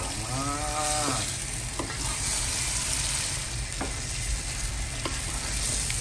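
Prawn masala with fried shallots sizzles steadily in a pan, a dense continuous frying hiss with occasional soft scrapes of stirring, close and loud with no talking.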